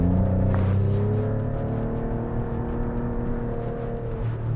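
An Alfa Romeo Stelvio Quadrifoglio on a race track accelerates hard at full throttle out of a corner, its engine a loud, steady, close roar with rising harmonic tones and no voices over it.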